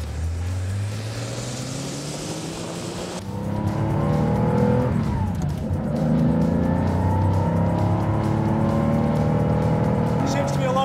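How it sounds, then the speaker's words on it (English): A Porsche 911 engine revving hard and accelerating through the gears, its note rising in pitch with each pull, a gear change and tyre noise partway through, with someone talking over it from inside the car. "It's got a lovely engine note, hasn't it?"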